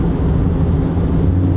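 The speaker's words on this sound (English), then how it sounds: "listen to that exhaust." A BMW 328i F30 with M Performance exhaust in sport mode gives a loud, steady low drone and rush of road and wind noise from inside the car while driving.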